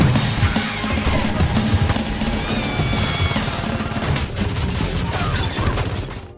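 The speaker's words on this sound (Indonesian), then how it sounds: "Kemudian mereka menyerang El Huron dan terjadilah aksi tembak-tembakan." A loud, dense gunfight from an action film, with rapid overlapping gunshots and bursts of fire continuing without pause and a brief high whine partway through.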